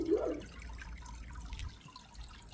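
Water spilling over the edge of a home aquarium, heard as a soft, steady trickle and wash that runs through without a break and is fairly quiet.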